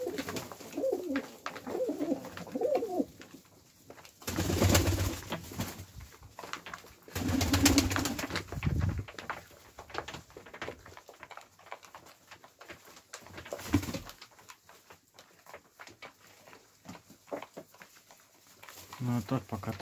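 Iranian high-flying pigeons coo softly and repeatedly, near and low-pitched, with occasional wing flutters and a person talking at times.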